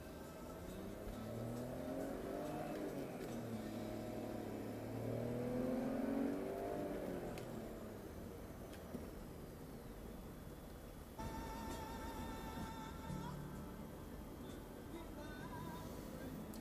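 A 150,000-mile BMW X5 cruising at high speed on an open road, with steady engine drone and wind and tyre noise that swells into a brief acceleration before settling back to a constant, close-up cabin hum.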